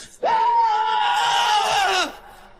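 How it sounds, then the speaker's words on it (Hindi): A single long, loud, piercing scream in a forest, a horror story sound effect, rising sharply, held for about two seconds, then cut off, with near silence around it. "उसी समय एक बार फिर से दिल दहला देने वाली चीखों से सारा जंगल दहल उठा।"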